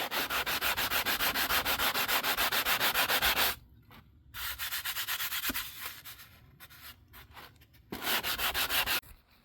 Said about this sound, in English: I'm going to do some sanding